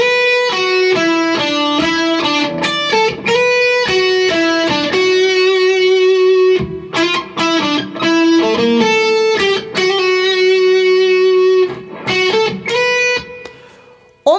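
Electric guitar plays a melody from Deltarune, a clear sustained single-note line with distinct plucked notes, loud and close, repeating the phrase twice with brief pauses.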